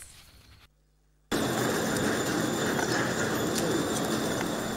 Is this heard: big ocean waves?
no